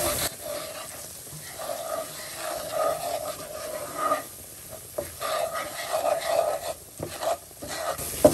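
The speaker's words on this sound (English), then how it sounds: "You want to stir it because you don't want those spices to burn." A spoon scrapes and stirs spices cooking in a pan for ground beef enchiladas, with a soft sizzle and intermittent rubbing strokes, close and steady.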